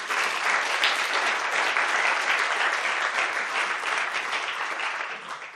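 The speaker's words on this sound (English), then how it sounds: "I would like to ask for a big round of applause for our panel," Audience applauding a panel at a discussion event, a full, sustained round of clapping from many hands that holds steady and begins to taper near the end.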